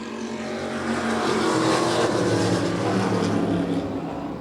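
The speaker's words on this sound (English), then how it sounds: "And a 3rd car coming into the mix, the 38 Bob Guyan" Race cars, including a Ford Pinto, roar around a stock car track in a loud, continuous, close engine drone that swells slightly as the pack passes.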